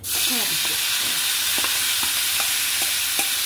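Cut tomato pieces fry in a hot pan with a loud, continuous sizzle, broken by a string of soft, regular stirring scrapes close by.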